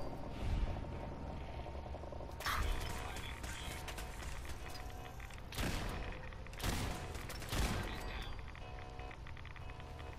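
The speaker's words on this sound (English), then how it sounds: "A laser turret." Laser turret in the game Fallout 4 opening fire in bursts of sharp, crackling shots with a few heavier pulses, set against steady background game noise.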